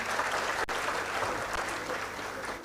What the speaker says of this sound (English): Can Princess Nnabagereka have a hearty round of applause,